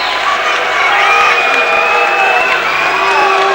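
A boxing crowd cheers loudly as Jesse Ferguson makes his ring walk before facing Frank Bruno, with whoops and shouts in a steady, dense roar throughout.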